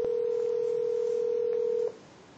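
A phone call rings on the other end as a single steady electronic ringing tone, held for about two seconds and then stopping, leaving faint background hiss.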